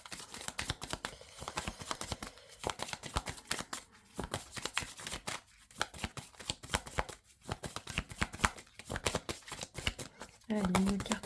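Tarot cards are shuffled over and over in a steady run of crisp, papery riffles and slaps, close and fairly quiet, with a voice faintly under them.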